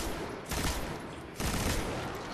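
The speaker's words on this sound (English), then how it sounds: "This is the first time I'm using my new machine gun." A machine gun in the video game Destiny fires two loud, rapid bursts, each a dense rattling volley of shots lasting roughly a second, close up with no talk over them.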